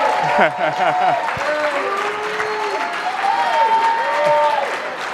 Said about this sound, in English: before I ask for everyone to give a round of applause